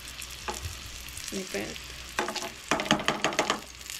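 Rava-coated mackerel frying in a pan, a soft close sizzle with scraping as the fish is turned, growing into bursts of louder crackling spatter toward the end, no voices.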